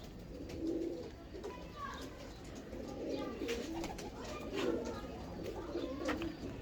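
Pigeons coo in a low, repeated rhythm, close and continuous, for a breeder showing off a prized golden pigeon; someone talks over the birds throughout.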